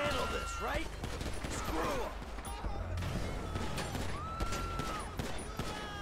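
Rapid bursts of gunfire crackle over a dense, busy GTA 5 game soundscape with engine rumble, continuous and fairly loud throughout.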